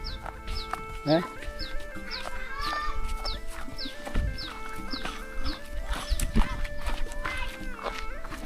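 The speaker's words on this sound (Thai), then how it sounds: "มันไก่เนาะ" Chickens in a rural Lao village give repeated short clucks and rising calls across the whole stretch, with other farm noises and background chatter underneath.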